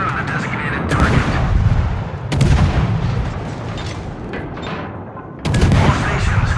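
The cruiser Jinan's main guns in World of Warships boom in three heavy salvos, each a loud blast trailing into rumbling decay, with constant low battle noise between them.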